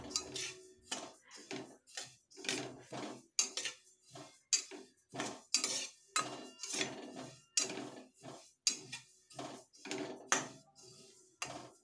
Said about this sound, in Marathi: सतत हलवत राहायचं. थोडं जरी दुर्लक्ष केलं तर आपले तीळ करपू शकतात.